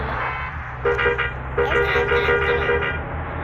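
A bus horn in a driving game honks in a burst of short toots, then a longer run of repeated honks, over a steady engine hum.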